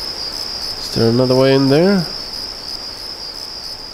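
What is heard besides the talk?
crickets chirping loudly, from the video game Deus Ex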